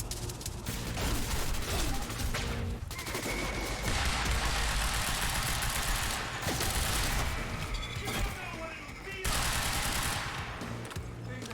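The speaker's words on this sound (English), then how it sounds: "A full auto shotgun, huh?" Rapid, heavy blasts from a full-auto shotgun in the video game Quantum Break, loud and continuous with brief gaps, layered over dense game action.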